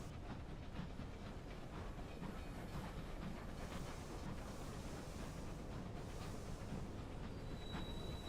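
Steady rumbling drone of a locomotive engine in the game Sunless Skies, a continuous, even mechanical roar with faint rhythmic clatter and hiss, unbroken throughout.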